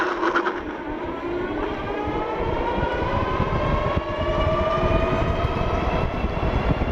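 A Wired Cruiser and a Furious EMX electric bike race at full throttle, their motors giving a loud, sustained rising whine with a continuous road rumble beneath, close and without talk.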